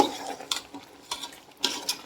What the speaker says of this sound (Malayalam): ഇതൊക്കെ ഇട്ട് ഇളക്കുകയാണ് ഞാൻ നല്ല പോലെ.